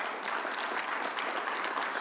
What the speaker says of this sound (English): Charlie King, let's give him a big round of applause.